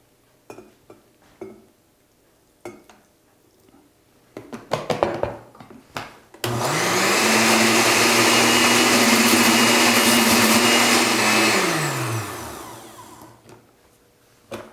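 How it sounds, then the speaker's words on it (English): Following a few knocks and clatters, a stick blender roars loudly and steadily for about six seconds, then winds down and stops. "don't drop the stick when the blender is running"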